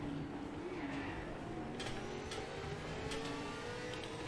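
A racing car engine in the video game Project Motor Racing holds a sustained, smooth drone with pitch rising gradually under acceleration, steady and continuous without pause.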